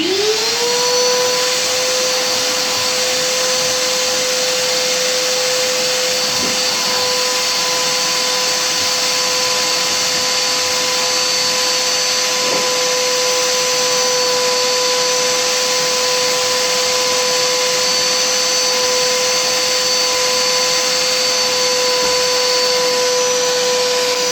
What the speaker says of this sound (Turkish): Elektrikimizi de açalım. Süpürmemize başlayalım.